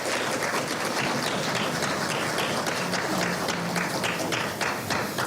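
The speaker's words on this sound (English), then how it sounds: "I want you to give Fidelity Bank a round of applause" Audience at a banking event on Exuma in the Bahamas giving a round of applause, a steady, dense patter of many hands clapping throughout, moderately loud with no speech over it.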